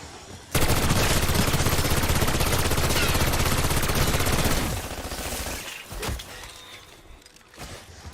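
Continuous rapid turret fire in a video game roars loudly for about four seconds, then fades into lighter shots, impacts and shattering effects before a few scattered bursts at the end.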